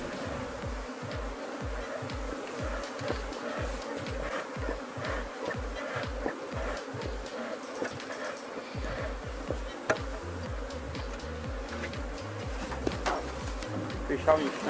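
Populous honeybee colony buzzing in an open hive during a split inspection, a dense continuous drone of many bees close by, with rhythmic knocking or tapping repeating beneath it and occasional sharper clicks.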